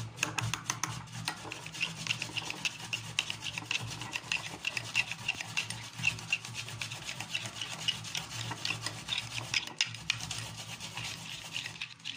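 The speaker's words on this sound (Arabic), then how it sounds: "وهنرجع نقلب، لازم تقلبيه كويس عشان الخلطه تخش في بعضها." Homemade cheek and lip tint mixture stirred briskly in a small container, a continuous close rubbing, scraping rhythm with no voices.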